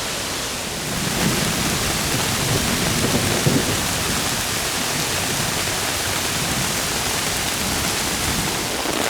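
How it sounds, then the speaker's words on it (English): A thunderstorm rolls over a campsite with steady, heavy rain drumming on a shelter overhead and low rumbles of thunder beneath, a dense continuous wash of sound with no talking. "I had a nice little thunderstorm come up, so I've gotten up under my shelter"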